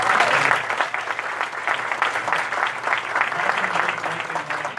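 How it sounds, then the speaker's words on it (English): Sustained applause from a sizable crowd at an award night, steady dense clapping filling the whole stretch with a few faint voices mixed in. "give them a round of applause"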